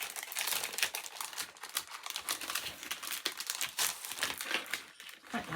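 Sticker sheets being rummaged through for papercraft, giving a steady run of close, dense crinkling and crackling rustles with sharp paper snaps, alone and without voices.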